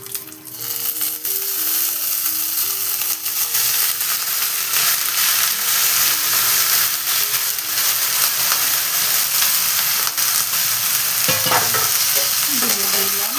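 Chopped bottle gourd dropped into a hot pan of oil with mustard seeds and dried chilli, frying with a loud, steady sizzle and a brief scrape of stirring near the end.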